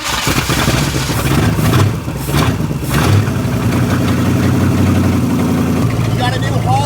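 A 1972 Ford engine, abandoned for 20 years and now fitted with a new Holley carburetor, cranks and catches, then runs at a loud, rough, steady idle close by, with people talking over it.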